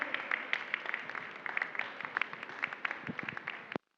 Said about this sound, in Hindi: सभी तालियां बजाकर अनुमोदना करेंगे